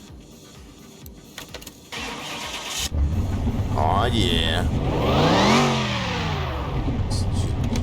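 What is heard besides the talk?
car engine starting and revving, Car Mechanic Simulator 2021 video game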